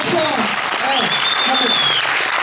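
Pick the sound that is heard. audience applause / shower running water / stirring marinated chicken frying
audience applause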